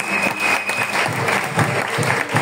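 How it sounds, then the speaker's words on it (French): A church congregation at a service claps loudly and continuously, a dense close wash of applause with a faint voice over it. "acclamant encore le Seigneur."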